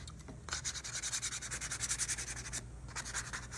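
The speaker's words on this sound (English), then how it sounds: "I'm working with 400 grit sandpaper." Hand sanding a piece finished in milk paint with 400 grit sandpaper, a rapid run of rhythmic back-and-forth rasping strokes, close and steady, with a brief pause midway and no speech.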